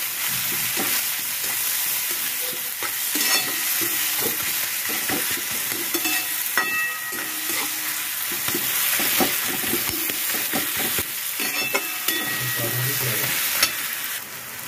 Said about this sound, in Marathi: आता याच्यामध्ये टाकूया लसूण बारीक ठेचलेला